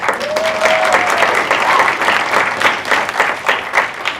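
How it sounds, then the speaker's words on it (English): An audience at a launch challenge presentation breaks into a loud round of applause, many hands clapping densely and evenly throughout, with a short voice heard over the start. "when I introduced them, they got a loud round of applause"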